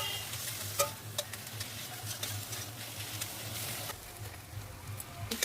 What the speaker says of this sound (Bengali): এখন পাতা বাটাটা দিয়ে দেব, দিয়ে ভালো করে ভাজবো।